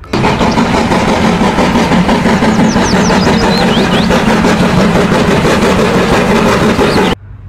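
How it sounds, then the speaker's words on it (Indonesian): A toy Thomas train plays a continuous, loud mechanical chugging engine sound, steady for about seven seconds with faint chirpy tones over it, before it stops suddenly. "Wow, ada kereta Thomas teman-teman."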